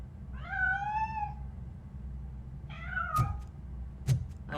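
Cat meowing in the video game RoboCop: Rogue City, two drawn-out, rising-falling meows a couple of seconds apart over a low ambient hum, with a few sharp knocks after the second, fairly faint.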